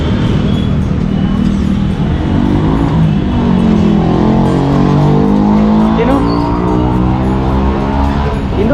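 A two-year-old bike rolls up with a steady engine drone that swells and rises in pitch midway, loud and close for the whole stretch.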